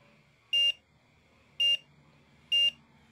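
Three loud, identical electronic beeps from a multimeter's continuity test on a shorted component of a phone board, evenly spaced about a second apart over a quiet background.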